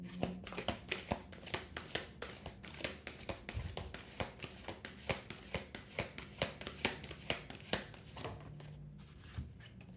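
Oracle cards are shuffled close by for a tarot reading, a quick, regular train of soft slaps and riffles repeating about twice a second for the whole stretch, fairly quiet, with no voice over it.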